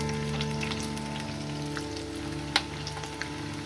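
Onions sizzle steadily in a hot pan while cooking down until soft, a dense close crackle with a couple of sharper pops near the end and no talk.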